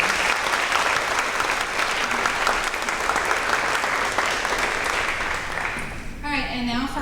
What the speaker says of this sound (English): one more round of applause for these awesome leaders